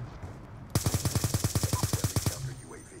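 A rapid burst of about fifteen sharp gunshots cracks out in a regular rhythm, loud and close, from an online Call of Duty Black Ops 2 match on PC, preceded by quiet background and no talking.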